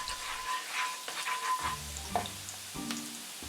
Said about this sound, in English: When the oil is hot, put a chopped garlic. Stir from time to time.